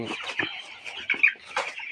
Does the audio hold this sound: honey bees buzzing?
no